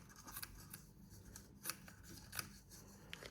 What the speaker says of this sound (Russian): Я беру ножницы и лишнее убираю, чтобы не утяжелять заготовку.